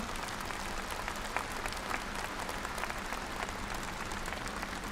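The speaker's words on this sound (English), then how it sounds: "Let's give them another warm round of applause" Steady, dense applause from a large audience fills the hall at the close of a medal award ceremony for Communist Party members in Beijing, even and sustained, heard at a moderate distance.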